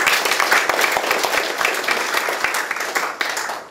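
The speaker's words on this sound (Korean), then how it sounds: "큰 박수 한번 주십시오." Audience applause at a public forum on restoring the Bongcheon stream as an ecological waterway, a dense, steady wash of many hands clapping throughout, fairly loud and close, with no talk over it.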